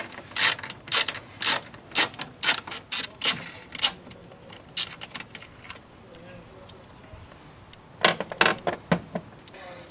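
A ratchet wrench loosens two 8mm bolts holding a coolant degas bottle in a car engine bay, giving close, quick clicking bursts in a steady rhythm through the first half, then another short run of clicks near the end, with no talk.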